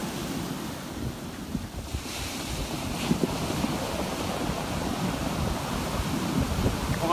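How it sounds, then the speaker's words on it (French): Large ocean waves crash against a boat stranded on the seafront at Sainte-Suzanne, a continuous heavy surf roar with rolling swells and strong wind buffeting the microphone, no voices. "On a une grosse vague là qui arrive"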